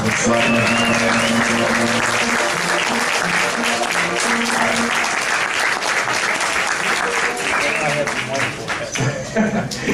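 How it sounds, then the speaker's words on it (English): Sustained, loud applause from an audience at an elementary school band's winter concert, with clapping throughout and a voice or sustained tones faintly underneath. "We want to give her a round of applause."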